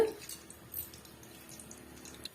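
Cinnamon bark and cloves sizzle and crackle steadily in hot oil while a Tamil chow chow kootu is being prepared, a soft continuous frying hiss with faint pops throughout, no talking.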